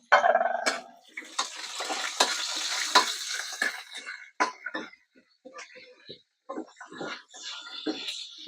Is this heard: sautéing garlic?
yes